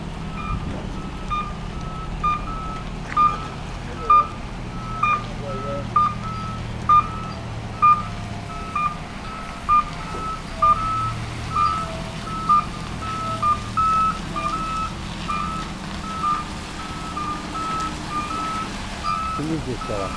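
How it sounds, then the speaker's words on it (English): Truck reversing while positioning to load a tram, its backup beeper sounding in a steady rhythm of about a dozen pulses over engine rumble and outdoor ambience, with people talking nearby. "they're just positioning the truck now to get it in position"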